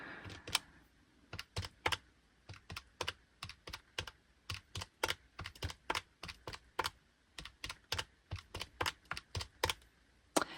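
Calculator keys tapped in a quick, irregular series of light clicks while numbers for a monthly budget are added up, close and fairly quiet with no talking.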